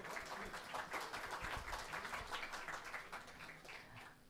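Audience applauding at an academic Vesak Day event, a dense, steady wash of many hands clapping at moderate distance, tapering slightly toward the end.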